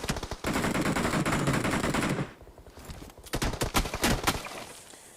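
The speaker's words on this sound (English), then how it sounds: "He's providing that cover fire for him as he moves back." Rapid automatic gunfire rattles through a shooter video game tournament match in long, loud bursts, then breaks into sparser separate shots after a short lull.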